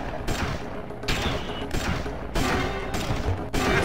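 Gunfire in the hunting game Cabela's Dangerous Hunts 2011 on DS, several loud, harsh blasts in sequence about a second apart, each followed by a short dip before the next.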